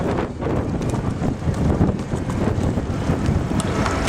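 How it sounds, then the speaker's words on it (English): Heavy outdoor wind pounds the microphone in a loud, gusting rumble that rises and falls without a break. "You got the heavy wind going on right now."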